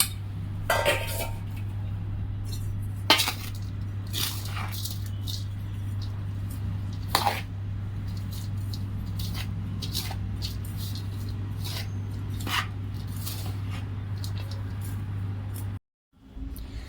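Spoon scraping and clinking against a metal pot or bowl while fried edible gum and ground ingredients are mixed for methi ladoo, irregular close taps and scrapes over a steady low hum, ending in a brief cutoff.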